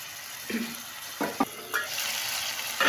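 Chicken shashlik pieces frying in a pan with a steady broadband sizzle, broken by a few short stirring scrapes and clatters, close and moderately loud with no voices.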